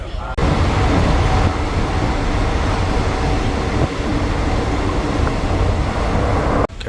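Third-class train traveling from Thailand to Malaysia, with windows wide open, gives a steady, loud rumble and wind roar with faint clatter throughout, close and continuous.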